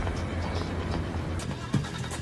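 A car rolls along in a Steven Seagal action film scene, following another car from the Turkish embassy, with a steady engine rumble and a brief thump near the end.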